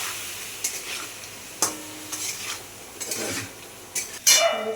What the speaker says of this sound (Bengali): এটা এখন সুন্দর করে আমি কষে নেব আবার